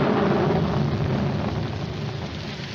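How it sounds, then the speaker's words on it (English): Steady dense rain pours down with a low rumble beneath it, continuous and fairly loud for the whole stretch, with no voices. "It's going to rain."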